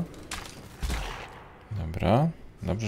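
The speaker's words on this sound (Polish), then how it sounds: "Dobrze, że przydają się te podwójne strzały." Two gunshot-like bursts from a bow firing double arrows in the video game Rise of the Tomb Raider, heard close and separated by a pause, with game ambience around them.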